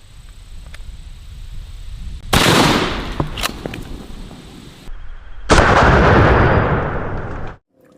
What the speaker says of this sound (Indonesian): Yang ini tembak-tembakan shotgun.